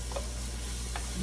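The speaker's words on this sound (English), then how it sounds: "while it's still cooking, keep giving it a little stir. It's on medium high." Oyster mushrooms frying in a pan on medium-high heat, a low steady sizzle with two quick stirring scrapes, brief and close, with no talking.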